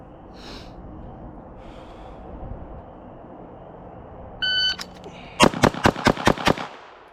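Rapid string of sharp gunshots from a Staccato CS pistol fitted with a DSC compensated barrel, about six loud cracks in quick rhythm after a brief electronic beep from a shot timer, outdoors on a range.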